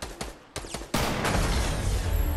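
Gunfire in the Fortnite video game: a few sharp shots at first, then a loud, sustained burst of dense firing that fills the rest of the moment, close and forceful.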